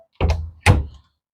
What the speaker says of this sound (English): just put it in the end and turn it, and that allows you to open your door.